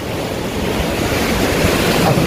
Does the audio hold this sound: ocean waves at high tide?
yes